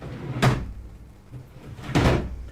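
A drawer is pulled open and later pushed shut in a room during a tarot card reading, giving two distinct wooden knocks about a second and a half apart, each with a short scrape, close by and with no talk.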